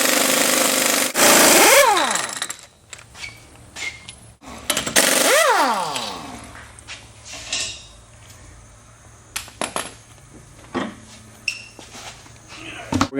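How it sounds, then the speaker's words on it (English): An impact wrench works on the wheel bearing axle nut of a Ford Windstar, firing two loud rattling bursts close by, followed by scattered metallic clanks and tool handling in a garage. "if you happen to have an impact wrench, just go ahead and use it"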